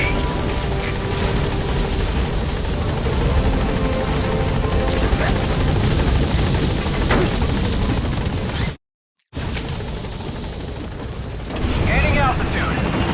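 The helicopter Pequod from the video game Metal Gear Solid V arrives with a loud, continuous rotor roar that drops out briefly, then returns at full strength.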